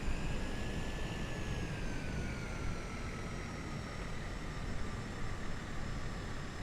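Airliner taxiing in Microsoft Flight Simulator, on a UK tour from Stornoway to Barra: a steady, loud engine roar with a high turbine whine that slowly drops in pitch, continuous and without talk.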